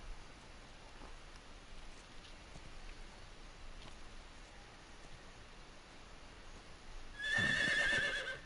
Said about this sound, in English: Why do I hear a horse?